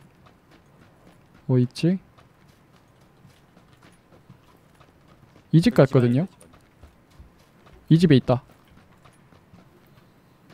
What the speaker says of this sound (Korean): 이 집 발소리 들려요.